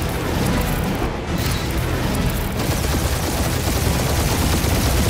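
Rapid gunfire rattles almost without a break through a space dogfight in the Guardians of the Galaxy video game, with dense blasts, loud and close.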